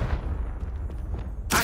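A Confringo fire spell cast in Hogwarts Legacy gives a sudden loud, bright burst at the very end, after a stretch of low rumbling ambience.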